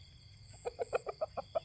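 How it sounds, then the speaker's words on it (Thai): A Thai native Koi and Ngon crossbreed hen clucking in a quick series of short, rhythmic calls, close and fairly clear over quiet background noise. "นี่ก็ เป็นไก่ก๋อยไทยงอนนะครับ"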